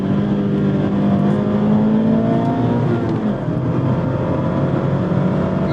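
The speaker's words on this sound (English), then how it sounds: "Love that Mazda Miata manual transmission." A 2024 Mazda MX-5 Miata Club ND3 with manual transmission, its engine revving hard on a racetrack in a continuous close, loud drone with rising and falling pitch.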